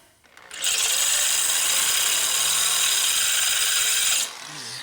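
A power tool cuts into hard set screws during a custom chopper motorcycle repair: one loud, close, steady high-pitched grinding whine lasts about three and a half seconds, then stops abruptly.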